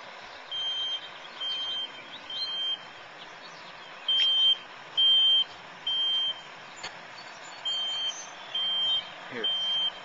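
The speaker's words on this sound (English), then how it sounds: "Sounds like a smoke alarm going off." A smoke alarm beeps in short, evenly spaced bursts inside a tornado-damaged house, fairly loud against steady background noise, with some talk around it.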